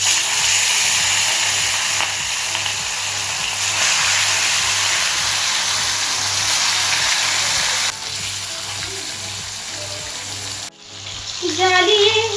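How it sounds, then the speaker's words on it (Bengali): Fish hit hot oil in a wok one at a time, giving a loud, steady sizzle that carries through the whole stretch, then cuts off and swells again near the end. "তেলটা গরম হয়ে গেলে আমি একটা একটা করে মাছ দিয়ে মাছটা সুন্দর করে ভেজে নেব।"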